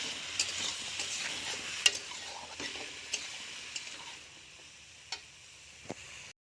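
Dry coriander seeds crackle and tick in a hot pan with a soft sizzle, scattered sharp pops fading as it quiets toward the end.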